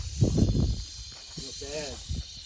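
A rattlesnake coils beside a hiking trail at Watson Lake in Prescott and keeps up a dry, continuous buzzing rattle close by while people talk over it.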